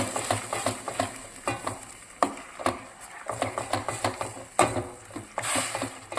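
Tomato gravy for paneer tikka masala cooking in a pan over low heat, with continuous soft sizzling and repeated clinks and scrapes of a spoon stirring against the metal.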